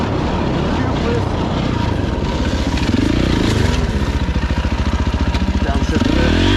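A KTM 525 EXC motorcycle revs and pulses steadily along a rocky trail, loud and close, with engine note rising and falling as the rider works the throttle.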